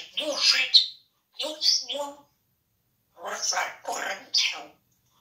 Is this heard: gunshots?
no